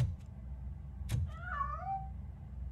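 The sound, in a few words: cat meowing in the video game RoboCop Rogue City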